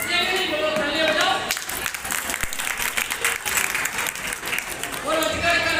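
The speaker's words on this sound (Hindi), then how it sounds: "ताली बजाओ" An audience claps steadily through a community celebration of Sant Gadge's birth anniversary held by the Rajak community in Biaora, a loud continuous wash of applause with voices mixed in.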